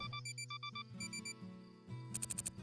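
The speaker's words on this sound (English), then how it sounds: "Taksu stopped mid-sentence and made an odd beeping noise." A character's odd electronic beeping in a visual novel game: a rapid series of short, bright tonal beeps in quick bursts, like an alarm pattern, heard over soft background music with no talking.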